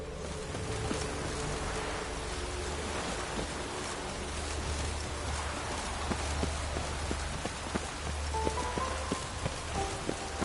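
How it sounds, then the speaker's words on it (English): Steady rain patters on a surface, with scattered heavier drops tapping nearby and a low rumble underneath, continuous throughout. "Rain again."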